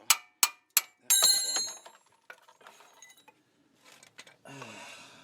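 A light 8-ounce hammer strikes rear brake parts on a 2005 GMC Envoy/Trailblazer, giving three sharp metallic clinks, then a ringing clang and scattered softer taps and rattles, close and fairly loud.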